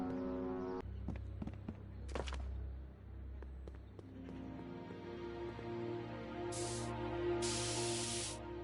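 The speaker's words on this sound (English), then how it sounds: "Spray paint." In a Back to the Future video game, a spray paint can fires two short hissing bursts, the second longer, after scattered taps and clicks, over a low background hum.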